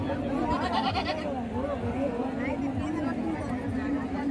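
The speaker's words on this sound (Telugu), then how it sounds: "నాలుగు మేకలు ఉన్నాయి పిల్లలు వచ్చేసి ఏడు మేక ఏడు పిల్లలు ఉన్నాయి" Goats and kids bleat repeatedly at a livestock market in Pebbair, amid a busy crowd of voices chattering nearby, the animal calls rising over steady market noise.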